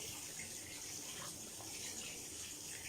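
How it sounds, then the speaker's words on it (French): Running water from a tap pours steadily while someone rinses their face with clear water at a sink, a faint, continuous splashing hiss with no talking. "vous avez juste à le rincer à l'eau claire."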